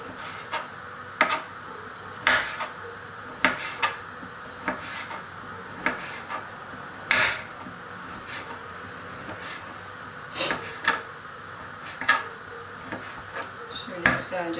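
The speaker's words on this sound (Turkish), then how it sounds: "Şöyle minik minik doğrayayım ben bunları." A knife chops sucuk sausage on a board, sharp irregular taps spaced about a second apart, fairly close and quiet, with no talking.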